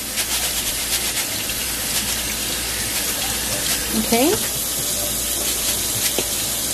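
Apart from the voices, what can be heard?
rice being rinsed under running tap water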